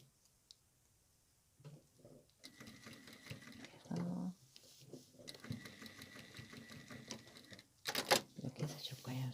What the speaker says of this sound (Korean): 이 상태에서 여기만 살짝 꽃잎만 박음질 해줄 거예요